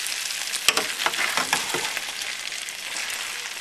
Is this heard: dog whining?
no